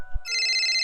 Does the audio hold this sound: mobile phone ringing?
yes